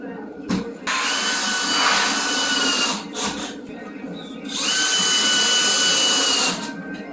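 Power drill driving screws into wooden skids while building a skid Christmas tree, loud whirring bursts with a short pause between them and a brief earlier burst.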